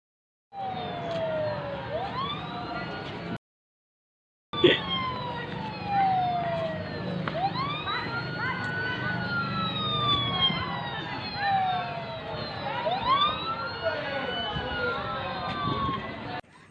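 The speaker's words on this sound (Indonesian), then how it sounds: "pendengar diam di tempat lalu sumber bunyi menjauh, maka frekuensi bunyi yang terjadi bunyinya akan semakin lemah" A siren wails repeatedly, its pitch sliding downward as it moves away, steady in loudness with a brief gap of silence early on.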